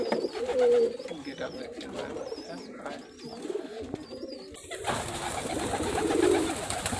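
Pigeons coo softly amid a busy, noisy outdoor background, with a few bird calls and low chatter around.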